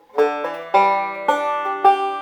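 A banjo plays a bright forward roll of plucked notes, with a quick 0-to-2 sixteenth-note hammer-on slurring upward partway through, close and clear.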